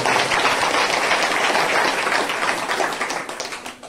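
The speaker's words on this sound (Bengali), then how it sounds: "জোরদার তালি বাজিয়ে ঈশ্বরের মহিমা" A church congregation claps loudly and continuously, dense fast applause filling the room before tapering off near the end.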